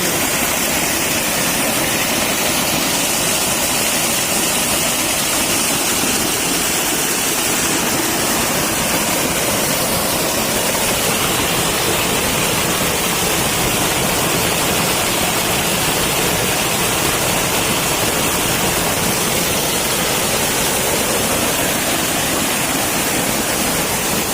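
A waterfall at Patohora near Harichandanpur, Palaspal, roars as a steady, loud, broadband rush of falling water that fills the whole scene without pause and with no voices.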